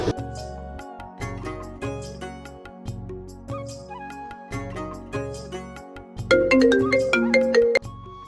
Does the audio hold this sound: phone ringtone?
yes